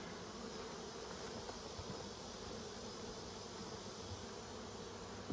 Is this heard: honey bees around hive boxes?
yes